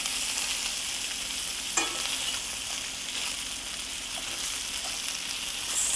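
Smoked sausage frying in a pot with sauerkraut and potatoes gives a steady, loud sizzle with occasional stirring scrapes, continuous and close.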